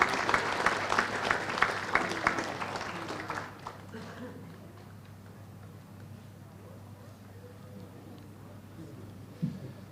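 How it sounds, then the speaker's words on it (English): Audience giving a round of applause for volunteers at a junior football club awards night, brisk clapping for about four seconds before fading into quiet room noise. "please, another round of applause"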